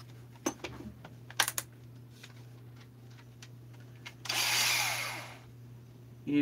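A power drill bores out a part on a junk case to take a 5/16 tap: scattered quiet clicks and taps, then a single loud, whining drill burst of about a second near the end.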